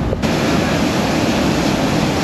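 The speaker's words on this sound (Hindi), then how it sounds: "तो दिस इज द वाटरफॉल, उधर साइड में दिख रहा है, यहाँ से ऊपर साइड से कहीं से पानी आ रहा है" A waterfall in Meghalaya on the way from Umngot to Cherrapunji, heard as a steady, broad roar of falling water mixed with some wind buffeting, constant and fairly loud throughout.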